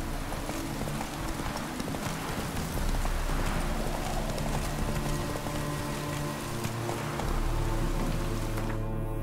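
Roach the horse trotting in The Witcher 3: Wild Hunt, a steady rhythmic clip-clop of hooves close by, loud and continuous over a layer of rain-like ambient noise.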